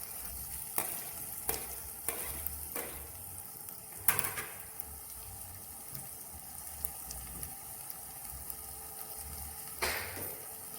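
Lime slices and tomato fry in a sofrito for Mexican sopa de lima, a quiet steady sizzle broken by a few sharp clinks and stirring scrapes of a utensil against the pan.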